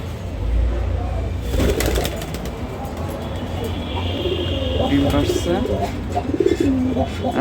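Domestic pigeons, including female Lakka pigeons, coo in soft repeated phrases in a loft, close by and mixed with a few chirps, while a person talks over them.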